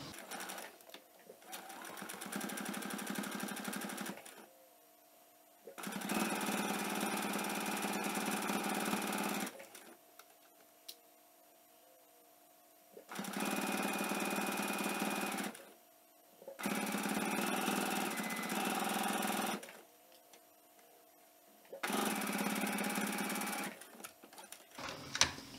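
A sewing machine stitches binding onto a fleece pullover in four or five long runs of steady, fast mechanical whirring, close and loud, with short quiet pauses between runs.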